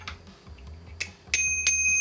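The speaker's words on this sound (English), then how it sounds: "It's a bit of a dodgy bell" A somewhat dodgy bicycle bell rings twice in quick succession, bright and close, after a few faint clicks.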